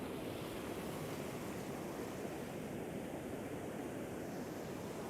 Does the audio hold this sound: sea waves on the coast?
yes